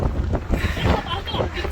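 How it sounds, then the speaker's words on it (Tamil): Gusty wind on Vancouver Island buffets the microphone in rough, uneven bursts, with a voice talking briefly underneath. "சும்மா காற்று காட்டுறதுக்கு."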